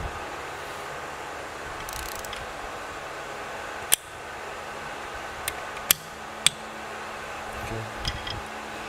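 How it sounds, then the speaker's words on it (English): A brand-new torque wrench during an ATV repair gives a few sharp, isolated metallic clicks over a quiet background hum, spaced a second or so apart. "It's a brand new torque wrench, honestly. I don't know how it works very well."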